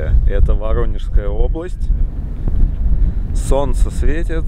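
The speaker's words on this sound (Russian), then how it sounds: "ветер дует" Wind rushes and buffets the microphone at a landing stop in Voronezh Oblast during a private light-aircraft trip south, a steady low roar running under someone speaking throughout.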